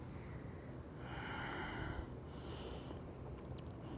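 Soft breath sounds during a seated chair yoga session, with a broad airy exhale swelling for about a second, a fainter second breath after it, and a low steady background throughout.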